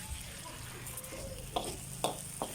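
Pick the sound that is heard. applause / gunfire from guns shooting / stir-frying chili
stir-frying chili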